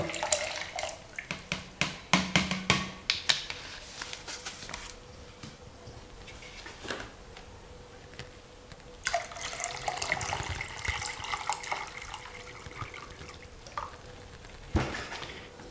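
Orchid seedling medium concentrate is poured into a container, giving close, quiet splashing and trickling liquid sounds with small clinks and drips. It comes in two bursts separated by a quieter pause, and no one talks.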